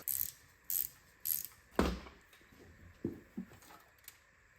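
A ratchet loosens the intake manifold bolts on an AMC 304 V8 from a 1977 Jeep CJ7. There are several close, loud bursts of rapid clicking, followed by a metallic clunk and a few lighter knocks.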